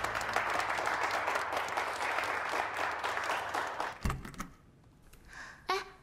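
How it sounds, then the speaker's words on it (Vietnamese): Applause after a speech, a dense patter of clapping from a small group that fades out, followed by a few scattered soft knocks and rustles in a quiet room. "Vỗ tay cho phần phát biểu của chiếc râu nào."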